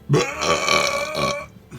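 One long, loud, croaky burp rolls out for over a second at a tabletop card game session, then trails off into quiet.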